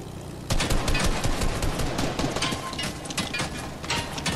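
Rapid automatic gunfire bursts loudly from an X-4 Stormwing plane in Fortnite as it shoots at enemy structures, a dense, sustained rattle after a brief quiet start.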